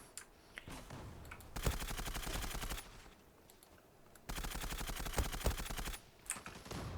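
M4A1 rifle firing in a video game, two sustained automatic bursts of rapid, evenly spaced shots separated by a quieter pause, loud and close.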